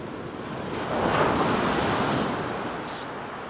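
Surf crashes onto a shingle beach at Southbourne, a broad roaring wash that swells and slowly recedes, mixed with some wind buffeting on the microphone.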